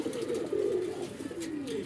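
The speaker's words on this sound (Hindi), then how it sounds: "ये देखो बड़ा शानदार कबूतर है।" A pigeon cooing close by in a soft, repeated low throaty murmur, continuous for a couple of seconds with a few faint chirps behind it.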